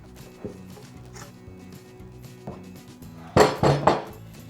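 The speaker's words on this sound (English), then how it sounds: "I'm gonna go ahead and take my cake out of the pan" A cake being taken out of a metal baking pan for strawberry shortcake, with a few soft taps and then a cluster of louder metallic clanks and knocks near the end.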